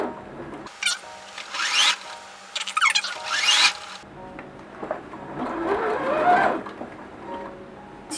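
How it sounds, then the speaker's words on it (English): A sewing machine stitches a fabric strip around the curved edge of a mini bag, sounding as several loud whirring bursts of rapid mechanical stitching separated by short pauses, with no talk. "we're basically just going to sew along this edge"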